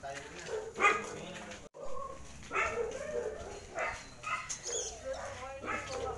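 A dog barks a few times in short yips, somewhat distant, mixed in with people talking nearby.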